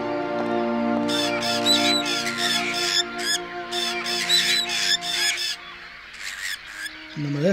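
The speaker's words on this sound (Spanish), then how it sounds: "los pájaros no me dejan subir la escalera" Crows blocking a staircase in the video game Syberia, a busy flock of raucous caws and squawks layered over a steady droning musical backdrop, loud and close, fading out near the end.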